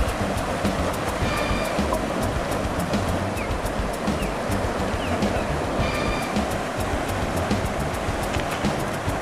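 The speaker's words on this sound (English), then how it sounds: "The test not only included surviving the rapids and fast-moving water," Rapids on the Rogue River rush in a steady, dense roar of fast-moving water, loud and continuous, with faint higher splashing flecks and no voices.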